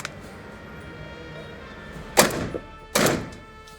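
Two sharp, loud shotgun blasts from a Mossberg 940 JM Pro, spaced under a second apart, over quiet outdoor background.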